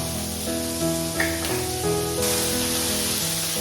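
Food sizzles steadily in a pan, a continuous close frying hiss running under a soft musical background without any pause.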